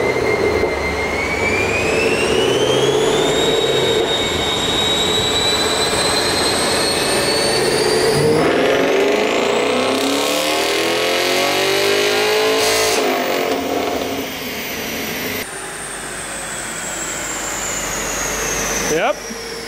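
A stock Camaro SS 1LE roars through a full dyno pull, its engine note climbing steadily in pitch across several gear changes, loud and close, with voices faintly underneath.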